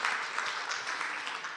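An audience at the formal opening ceremony of a peace forum gives a sustained round of applause, a dense, even wash of many hands clapping together for the whole stretch.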